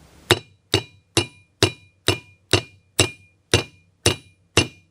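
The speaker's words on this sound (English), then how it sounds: "I'm going to tap with my ball peen hammer." A ball peen hammer taps brake rivets on a 1966 Ford Thunderbird, ten sharp metallic clinks at an even, unhurried rhythm, each ringing briefly before decaying, close and clear with no talk.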